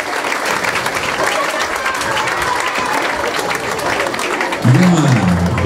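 An audience at a school summer festival applauds a performance group, with steady, dense clapping throughout and a voice speaking near the end.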